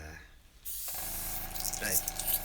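An airbrush sprays paint, starting abruptly as a loud, steady, broad hiss that holds throughout with slight fluctuations, preceded by a brief quieter moment.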